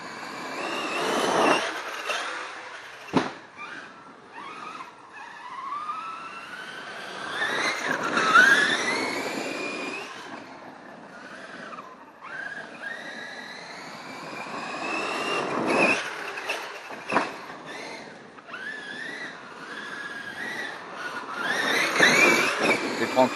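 Traxxas X-Maxx 4x4 RC monster truck running on a 4S battery setup with fresh tyres, its motor whining and rising in pitch through repeated fast passes, with speech mixed in at moments.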